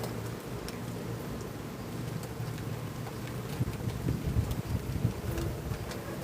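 Steady wind roars and gusts outdoors during a thunderstorm, a dense rushing wash with rain-like patter, growing slightly stronger toward the end; no voices are heard.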